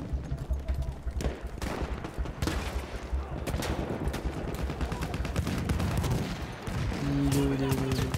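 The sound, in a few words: gunfire in video game Battlefield 1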